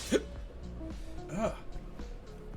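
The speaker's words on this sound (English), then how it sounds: "Hiccup burp." Single sharp hiccup from a person at the start, followed by a short voiced sound, with a steady noisy background throughout.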